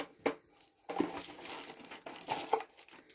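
Packaging of a newly bought lamp is torn and unwrapped up close, giving several sharp crinkling, rustling bursts separated by brief quieter gaps.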